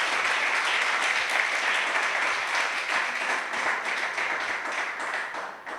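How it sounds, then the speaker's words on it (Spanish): A church congregation applauds warmly, dense continuous clapping from many hands that holds steady and begins to fade near the end. "Dele un aplauso al Rey"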